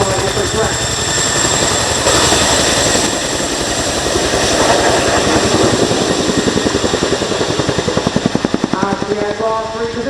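A Royal Air Force Boeing Chinook HC.6 tandem-rotor helicopter with two 5,000-horsepower Honeywell engines departs during an airshow role demonstration, a loud continuous turbine whine and heavy pulsing rotor thud dominating, with an announcer's voice beneath.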